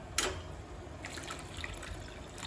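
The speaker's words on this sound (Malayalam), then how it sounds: "നമുക്ക് കുറച്ച് വെള്ളം ഒഴിച്ചു കൊടുക്കാം കേട്ടോ." Water poured into a simmering fish curry in a home kitchen, a faint, steady trickle and splash that runs for a couple of seconds with no talk over it.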